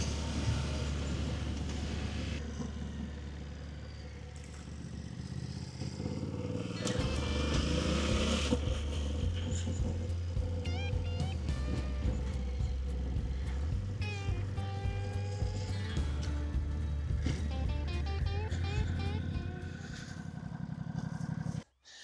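An adventure motorcycle rides through the bush, its engine droning steadily and loud throughout with shifting pitch as it changes gear, plus rattles and clatter from the rough track, close to the microphone with no talking.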